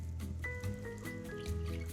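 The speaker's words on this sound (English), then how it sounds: "And then we just top with a little bit of sparkling water." Sparkling water poured over raspberry puree and ice in a glass for a mocktail, a soft trickling fill with light fizz and faint clinks, quiet and close, with no talking.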